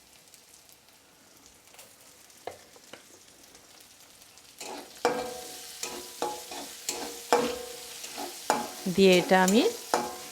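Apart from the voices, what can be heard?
stirring onions frying in oil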